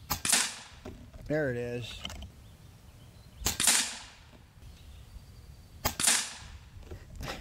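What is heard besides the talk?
FX Airguns Lil' Slugger PCP air rifle shots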